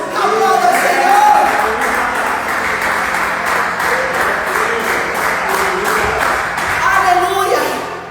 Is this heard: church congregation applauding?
yes